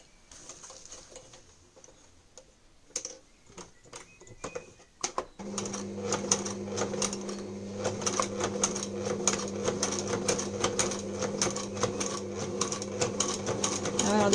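A sewing machine stitches a fabric protective mask, starting after a few quiet handling clicks and then running in a steady, close, continuous whir to the end.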